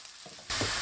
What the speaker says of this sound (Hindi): इसको भी अच्छे से मिक्स करके इसको फ्राई कर लेंगे